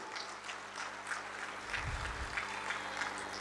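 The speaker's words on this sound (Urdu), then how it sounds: "تو آپ اپنی بھرپور تالیوں میں ان کی پذیرائی کریں" An audience at a school event for World Disability Day claps together in Pakistan, a soft, steady patter of applause heard from some distance and fairly faint, with no voices over it.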